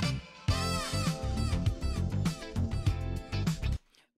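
Another version of an AI-generated song plays, starting after a short lead-in with dense tonal music, punchy low beats and sustained melody before cutting off sharply into quiet.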